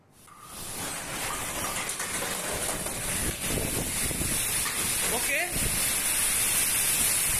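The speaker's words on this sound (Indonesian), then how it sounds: "detik-detik hujan deras dan angin kencang di Desa Patean, Kecamatan Batuan, Kabupaten Sumenep, Jawa Timur, Selasa sore" Heavy rain and strong wind in Desa Patean, Sumenep, East Java: a loud, continuous roar of wind gusts and driving rain rises quickly at the start and stays intense throughout.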